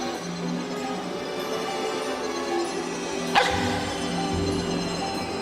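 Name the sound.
dogs barking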